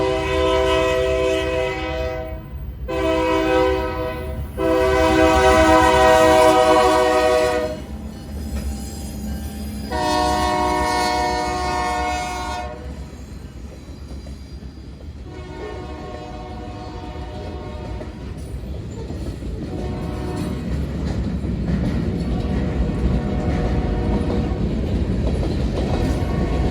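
A train horn blasts in several long, loud bursts, followed by the rumble and rhythmic clatter of railcars rolling past close by.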